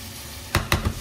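Potatoes frying in a pan for crisp sautéed potatoes, stirred and salted: three short, close scraping bursts of stirring over a low steady background sizzle, with no talking.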